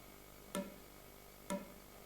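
A longer air-filled tube is struck twice, and each tap gives a brief hollow resonance that fades quickly, heard close and faint with no talking.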